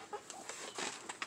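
Roosters on a homestead give short clucks and calls, fairly faint and slightly distant, in a quiet yard.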